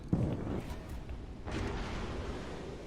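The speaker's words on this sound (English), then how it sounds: "It looks like the New Orleans is firing AP at us, Colorado's firing AP at us." Heavy naval guns booming in World of Warships Legends as a New Orleans cruiser and Colorado battleship fire armor-piercing shells, with a sharp blast near the start and another deep rumbling salvo midway, all low and dense.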